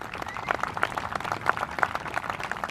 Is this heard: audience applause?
yes